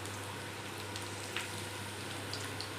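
Chopped garlic fries in oil, a steady, soft crackling sizzle that continues throughout with a few faint pops and no talking.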